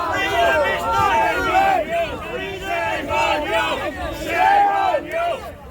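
An annoyed protest crowd at Queens Park, February 27th, 2021, shouting and chanting together in a loud, continuous, overlapping roar of many raised voices, close by.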